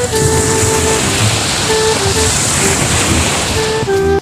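Sea waves wash steadily against the shore in a continuous loud rush, with a faint tonal hum running beneath and no voices.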